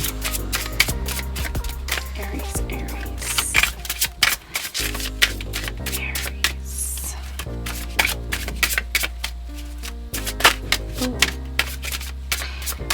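Tarot cards are shuffled and drawn during an Aries reading, giving repeated crisp riffling flutters and sharp slaps close by over a steady bed of background music, with a brief quiet gap near the middle.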